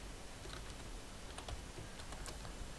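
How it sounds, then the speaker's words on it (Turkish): Typing on a computer keyboard, a scattered run of light key clicks at an irregular pace, quiet and close against a faint steady background hiss. "Hemen yazıyorum."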